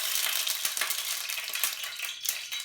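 Water flicked into hot vegetable oil in a pan sets off loud, close crackling and sizzling, a dense hiss broken by sharp spitting pops.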